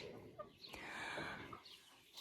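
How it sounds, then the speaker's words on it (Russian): Silkie hens cluck softly from a distance in an enclosure, a few faint low calls against quiet background noise. "курочек шелковых"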